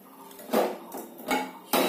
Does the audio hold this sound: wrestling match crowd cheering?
no